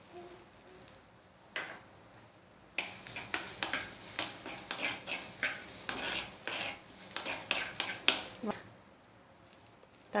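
Onions stirred and frying in a pan, with scraping utensil strokes and a steady sizzle repeating close by for most of the clip after a quieter start.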